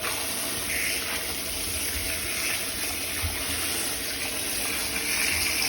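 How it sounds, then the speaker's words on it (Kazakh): Tomatoes being washed under a running tap, the water gushing in a steady, even stream with no talking. "Қызанақтарымызды жақсылап жуып алдық."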